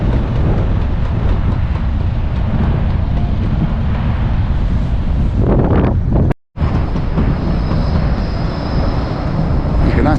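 A strong wind on the Blackpool seafront along the Golden Mile roars across the microphone in heavy continuous buffeting, broken by one brief dropout.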